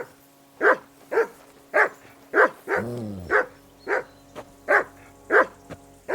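A dog named Mutt barks in Kingdom Come: Deliverance II, giving about ten sharp, evenly spaced barks close up, with a brief low whine partway through and no talking.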